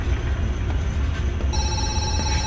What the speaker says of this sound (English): Okay, I'll answer that phone in a bit.